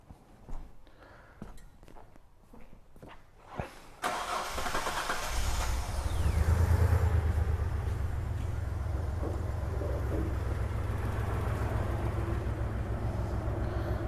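A Hyundai Terracan engine cranks with a few dry clicks, then fires and runs loudly and steadily during an injector balance test, its low rumbling idle holding near and continuous for the remaining time.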